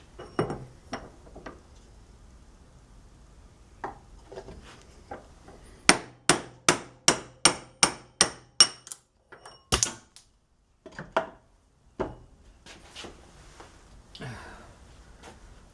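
Hard metallic hammer strikes ring out as bearings are hammered out of a drill press pulley, first scattered, then a quick run of about ten steady blows, followed by a few more separate hits.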